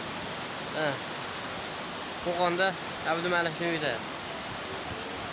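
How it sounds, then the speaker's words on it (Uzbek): Heavy rain pours steadily as a continuous broadband hiss outside a house in Kokand, while a voice speaks briefly over it several times. "yomg'irlarimiz juda qattiq yog'yapti"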